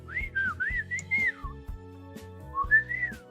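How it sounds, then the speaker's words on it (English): A person whistles a wandering, bright melody with sliding notes, close and clear, over a faint low background tone. "Yeah, I can whistle."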